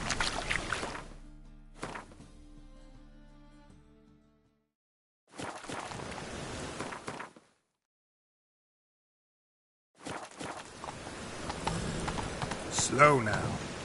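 Roach, a horse in The Witcher 3, clip-clops at a walk in short bursts separated by silent gaps, with spoken voices and game sounds over the hooves.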